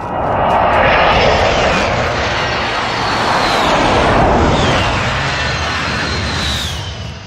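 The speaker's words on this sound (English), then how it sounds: "Allied precision airstrike incoming." An allied airstrike aircraft in the Call of Duty video game roaring overhead, a loud, sustained engine drone that swells and fades as it passes close by.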